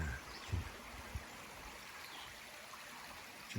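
A babbling brook flows steadily outdoors in a backyard, a soft continuous wash of trickling water at a distance, with a couple of faint low bumps and no talking.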